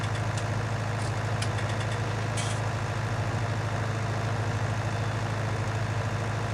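A farm tractor engine idles loudly and steadily, a constant low rumble close to the microphone with brief higher rattles near the start and no talking.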